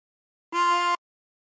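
One sustained draw note on a chromatic harmonica, breathing in through hole six, a short reedy tone lasting roughly half a second that begins and ends cleanly, heard alone.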